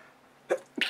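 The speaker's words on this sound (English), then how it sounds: "I'm about to sneeze." A single quick sneeze, a short intake followed by a sharp burst, close and fairly clear against quiet background.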